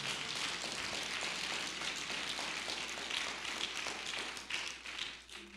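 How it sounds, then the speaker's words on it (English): A church congregation claps together at a Pentecost Sunday service, a dense, steady patter of many hands held at a low, distant level for several seconds before thinning out, with no talking over it. "Give God one more hand clap of praise where he deserves it."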